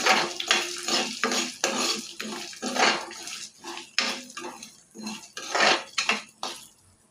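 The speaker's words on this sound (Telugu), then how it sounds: "ఇవన్నీ బాగా దోరగా వేసుకోవాలి, పచ్చి వాసన పోయేదాకా" Urad dal, chana dal, curry leaves and coriander seeds being roasted in a pan, with repeated scraping and clinking of a metal spoon against the pan in uneven bursts, close and fairly loud.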